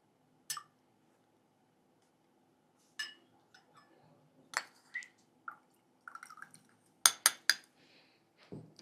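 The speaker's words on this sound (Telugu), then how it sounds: "మనం ఏదైతే లెమన్ జ్యూస్ తీసుకున్నామో ఆ లెమన్ జ్యూస్ని ఇందులో మిక్స్ చేసేయాలి" Lemon juice is mixed into a glass of water, giving sparse, quiet clinks and taps of a spoon against glass, with a quick cluster of clinks near the end.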